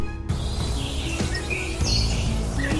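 Birds chirp in short, bright tweets over a dense, noisy background that runs steadily through the whole stretch.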